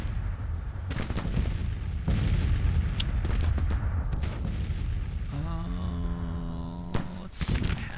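Artillery fire in a Civil War battle video game, with a series of deep booming shots over a constant rumble of battle, followed later by a tonal in-game sound, and no voices.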